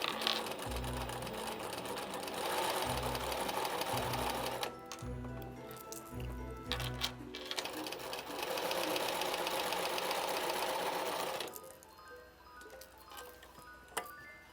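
Sewing machine stitching a Christmas stocking, running in steady bursts with a rhythmic mechanical whir, pausing briefly between runs and stopping near the end.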